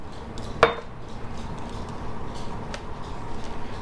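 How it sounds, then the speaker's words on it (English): Beer batter for fish tacos being stirred in a bowl, opening with a sharp clink of a utensil against the bowl, followed by soft, irregular scraping and sloshing mixing sounds. "And just mix it all in"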